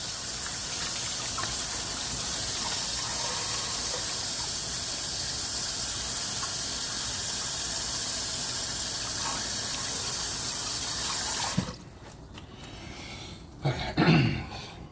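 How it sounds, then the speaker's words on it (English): Hands washed under a running kitchen tap after handling basil garlic butter. A loud, steady gush of water lasts about eleven seconds, then stops, followed by faint handling noises. "Wash my hands."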